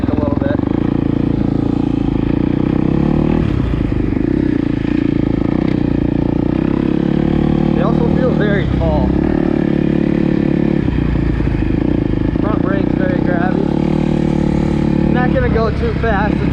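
A 2020 Kawasaki KX250 dirt bike on a ride keeps up a loud, steady engine drone with rising and falling revs, a voice talking over it throughout.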